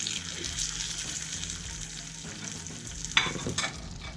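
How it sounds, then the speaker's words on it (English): Kingfish searing in oil heated until almost smoking, a steady close frying sizzle with a brief louder crackle and spatter toward the end. "we have our oil almost smoking because we just want to sear the outside of this and keep the center raw"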